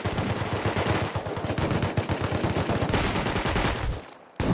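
An M2 machine gun in Rust fires long, rapid automatic bursts, loud and close with dense repeating cracks, then the firing cuts off into a brief near-silence.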